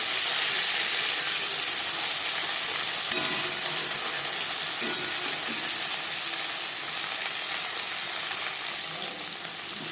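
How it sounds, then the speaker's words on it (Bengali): Hilsa fish frying in a pan of oil gives a steady, close, dense sizzle that runs unbroken for the whole stretch and fades slightly at the end, with no voices over it. "মাছ আমি হালকা করে ভেজে নেব। একটা সাইড ভাজা হয়ে গেলে অপর সাইডটা উল্টে দেব।"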